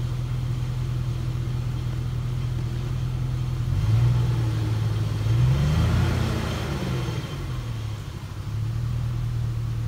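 A 2003 Chevrolet Suburban with a rebuilt 4L60E transmission backing up in reverse, a steady low engine drone that rises in a gentle swell midway, then settles back to idle.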